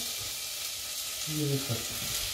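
Chopped onions frying in a small cast-iron pot, a soft steady sizzle heard close up with a few brief stirring clinks, no talking.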